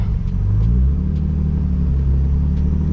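A boosted Nissan Z fitted with a full Tomei exhaust runs on a dyno, a loud, deep, close rumbling drone that climbs in pitch as the engine revs, with faint clicks above it.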